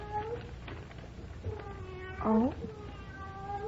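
A cat meows just outside a door, a series of drawn-out, rising-and-falling cries heard at moderate distance, with one louder, more insistent wail in the middle and a brief spoken interjection from a person indoors.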